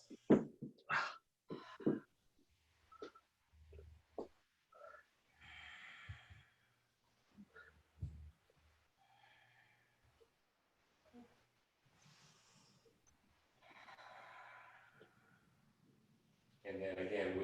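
Deep, slow yoga breaths held in a low lunge pose, several soft breathy swells spread through the stretch, with quiet instructor speech between them.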